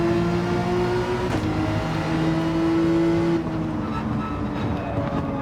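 Porsche 911 race car in a GT3 racing video game, its engine holding a steady, sustained drone with a brief shift in pitch partway through and again near the end, loud and continuous with no talking.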